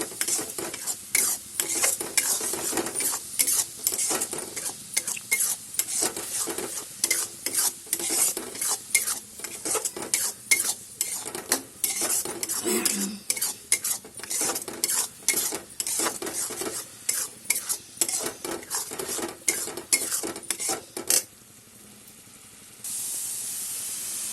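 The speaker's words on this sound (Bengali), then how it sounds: "সব একসাথে এখন এটাকে কড়াইতে নাড়বো, নেড়ে নেড়ে যখন শুকিয়ে আসবে তখন নামিয়ে দেবো।" Mashed yardlong beans with turmeric and sugar being stirred in a wok, a dense run of rapid scraping strokes and metal clatter over a faint sizzle, close and continuous, ending with a short quiet pause.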